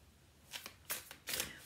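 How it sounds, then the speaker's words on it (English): Slippery tarot cards are riffled and shuffled in three quick, close bursts of crisp papery flutter, heard alone without talk. "Really nice cards, so easy to shuffle, a little slippery"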